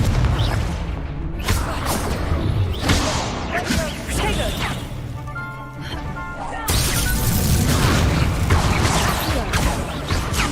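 Repeated Confringo spell blasts in Hogwarts Legacy, a fantasy video game, burst out as loud booming, crashing hits in quick succession, layered over continuous game noise and voices.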